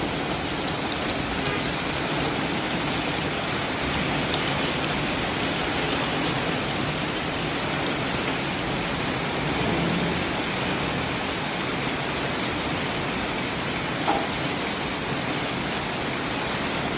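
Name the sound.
heavy rain pouring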